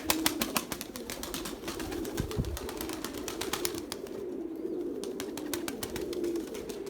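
Erzurum white pigeons coo softly near the listener, with rapid ticking clicks and faint flutters running through.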